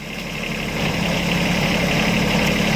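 A Kubota B1-14 four-wheel-drive compact tractor with a rotary attachment runs nearby, a loud, steady low engine drone that builds slightly and holds even, with no voices.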